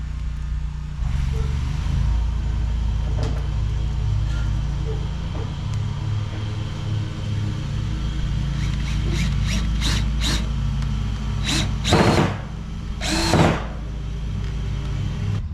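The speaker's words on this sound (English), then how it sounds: "They're now mowing the park on the other side of the fence." Lawn mowers running in a park on the other side of a fence, a steady low engine drone that persists throughout at moderate distance, with a few sharper bursts of clatter and whine near the end.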